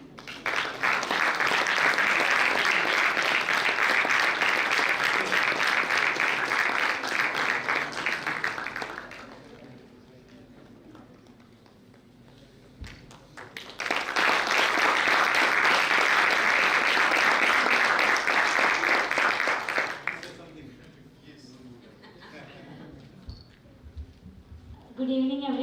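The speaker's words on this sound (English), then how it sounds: "Give them a big round of applause." An audience at a campus event applauds the winners in two loud, sustained bursts of clapping, separated by a quieter gap where a voice speaks briefly.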